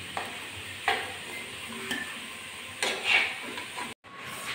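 Red-fried potatoes for garlic chicken kosha sizzle softly in oil while a spatula stirs and lifts them out to a plate, giving a few distinct scraping strokes over a constant frying hiss.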